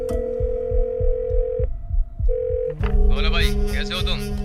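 A telephone ringback tone pulses in repeated beeps, then a voice begins speaking over a lingering tone.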